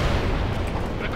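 A massive explosion in the World in Conflict: Soviet Assault strategy game, a dense roaring blast that fills the moment with heavy, sustained rumble and no speech over it.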